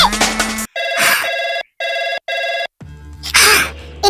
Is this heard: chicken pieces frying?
no